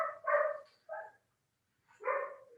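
Dogs next door bark in three short bursts, two close together and then one after a pause, somewhat distant and muffled, with no speech over them.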